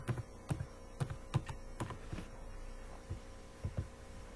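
Separate keystrokes on a computer keyboard while code is typed, a few clicks spaced irregularly over a low steady hum, close and fairly quiet with no talking.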